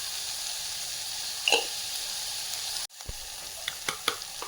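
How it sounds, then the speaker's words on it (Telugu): Chopped onions fry with salt in a pan for amla sambar, a steady crackling sizzle with a single clink of the stirring spoon. After a brief break come several sharper scrapes and taps as the onions are stirred. "కొంచెం సాల్ట్ వేసేస్తే వేగంగా ఫ్రై అయిపోతాయి."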